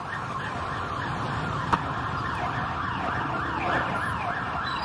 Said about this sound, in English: Let's see what happens when the ambulance gets here.